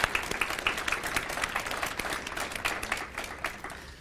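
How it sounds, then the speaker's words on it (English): Crowd applause at a community beautification awards evening, a brisk burst of many hands clapping that starts fairly strong and gradually thins and fades out. "Let's have a round of applause for the condominium associations and volunteers and landscapers."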